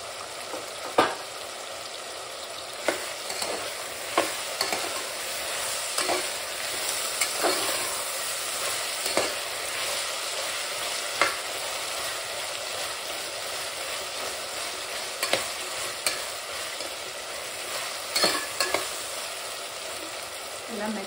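Vegetables and softening tomato sizzle steadily in a hot pan for vegetable biryani, with frequent scraping stirs and clinks of the spoon punctuating the continuous frying hiss.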